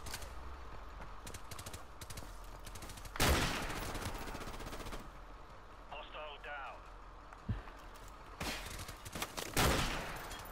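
Call of Duty Modern Warfare Remastered campaign gunfire crackles in loud bursts of automatic fire, with sharper single shots between them, over game ambience.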